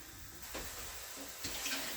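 Water from a can of ackee poured off into a kitchen sink, a short soft splash and trickle close by, with a brief louder gush near the end.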